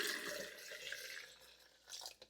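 Water poured steadily from a container into a blender for a lemon drink, three cups in all, a continuous splashing trickle with a brief gurgle near the end, fairly close and moderately quiet.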